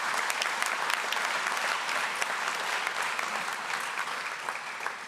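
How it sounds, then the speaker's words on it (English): An audience at the 2026 Golden Pyramid Awards gives a sustained round of applause for the scholars, a steady wash of many hands clapping at once that fades slightly toward the end. "let's give another round of applause for our Golden Pyramid Scholars"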